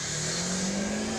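A race car engine drones at high, steady revs as it powers up a hill climb course, loud and continuous for a brief moment with no voices over it.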